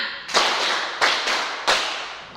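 Classroom of students clapping together in a counting clap game, a few distinct loud group claps in quick succession with reverberant tails.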